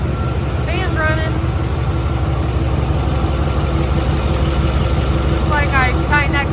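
A turbocharged car engine with an exhaust leak idles steadily up close with its cooling fan running, giving a constant rumbling drone with an even hum; brief squealing tones rise over it twice.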